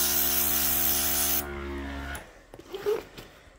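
Aprehend bed bug treatment is sprayed onto a bed frame in a loud, steady hiss lasting over a second, followed by a quieter mist, then soft handling rustles and light taps.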